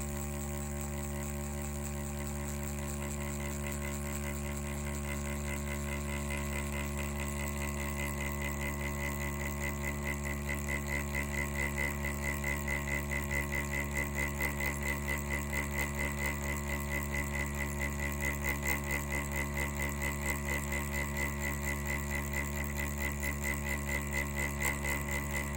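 An EZ P3 Pro Touch tattoo machine runs while packing black ink, giving a steady, even buzzing hum that holds unchanged throughout, close and alone without talk.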